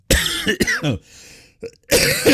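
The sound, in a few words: cough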